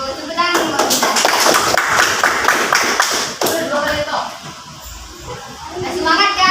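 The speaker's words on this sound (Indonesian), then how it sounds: "Tepuk tangan buat kita." A classroom of children clap their hands together in quick, loud bursts for several seconds, with young voices speaking over the clapping.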